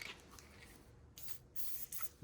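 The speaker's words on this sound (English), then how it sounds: "That is what an empty spray bottle sounds like." A nearly empty spray bottle of Tri-Flow lubricant sputters in a few short, faint hissing bursts with uneven gaps, close by and alone.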